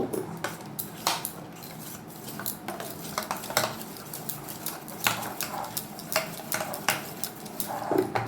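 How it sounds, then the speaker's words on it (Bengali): Thick yogurt being stirred into barramundi fish paste for a banana-leaf patra, a spoon clinking and scraping against a bowl in repeated close taps and swishes, no talking. "3 চামচ ঘন দই দিয়ে নিচ্ছি। এটাকে ভালো করে মিক্স করব।"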